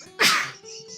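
One sharp, loud sneeze bursts out indoors during a tabletop Dungeons and Dragons session, followed by a short fading tail, with no talk over it.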